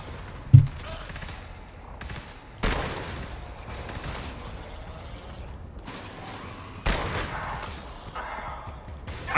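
Gunfire in the co-op shooter game GTFO, several sharp, loud shots spaced a few seconds apart over a steady low background, with players talking quietly in between.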